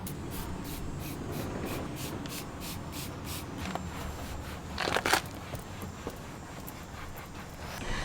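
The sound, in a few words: spraying and wiping leather car seats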